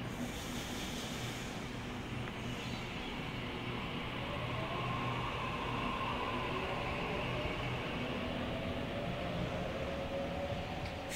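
A Sydney A19 train departs the platform at Harris Park, a low rumble and hiss with a faint rising motor whine, steady and moderately distant.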